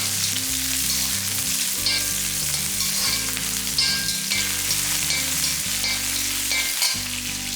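Loud, continuous sizzling of shallots frying in hot oil, with occasional stirring scrapes and no voices.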